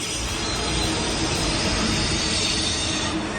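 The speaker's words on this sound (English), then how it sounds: "Here's an ICE one." ICE 1 high-speed train at Hamburg Hauptbahnhof, a close continuous rush of rolling wheels and rail noise with a faint squeal, steady and loud throughout.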